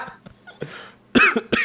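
A man coughs close by, several rough, harsh bursts with a short throaty clearing in between, ending in two forceful louder coughs.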